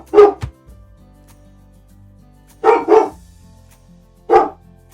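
A dog barks at the neighbors: a loud close bark at the start, then a quick double bark near the middle and another single bark later, with quiet pauses between.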